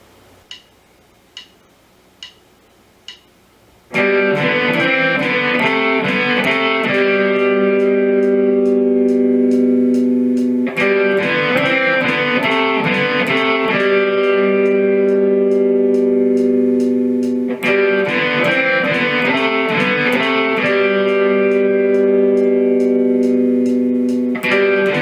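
Electric guitar plays phrygian-mode harmony lines in a repeating phrase three times over, loud and sustained with distortion, after four soft count-in ticks.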